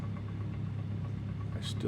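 Rough, uneven piston engine of a Kit Fox light aircraft with a knocking fault in a flight simulator, running at a steady low rumble with faint irregular beats, a voice talking over it.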